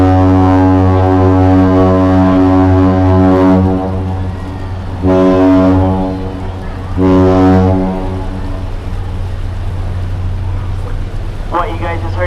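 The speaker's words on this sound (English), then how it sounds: "What you guys just heard is known as the Captain Salute." Freighter Presque Isle sounding its horn in a Captain Salute on arrival at Duluth, Minnesota: a deep, loud, harmonic blast held for several seconds, then two shorter blasts, echoing across the harbor.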